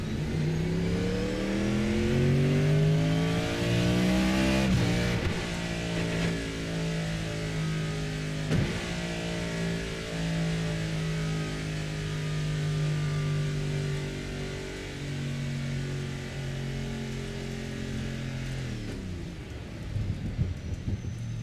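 The engine of an RSS MP-H Callahan racing car in the game Assetto Corsa drones loudly and steadily, rising and falling in pitch, before the automatic engine kill cuts it off near the end, leaving faint rattles.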